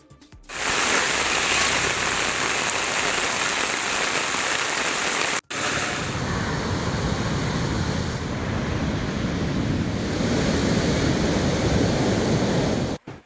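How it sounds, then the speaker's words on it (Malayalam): Heavy, intermittent monsoon rain in Kasaragod, Kerala, pouring as a loud, dense and unbroken roar for about thirteen seconds, briefly cut once by a gap near the middle, with no voices. "ഇടവിട്ടുള്ള ശക്തമായ മഴയാണ് കാസർഗോഡ്."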